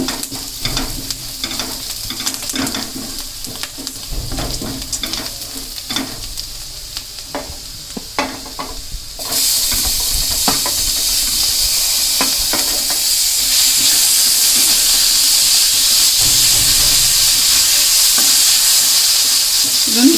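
Chopped tomatoes fry in a pan for a drumstick leaf stir-fry, a close, loud sizzle with stirring scrapes that turns into a denser, steadier hiss partway through, with no talk.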